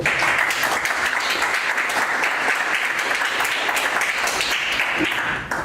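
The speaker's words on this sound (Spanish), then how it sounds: "un voto de aplauso, por favor" Applause from the audience at a biology conference lecture in Lima, dense and sustained, holding steady for about five seconds before easing off at the end.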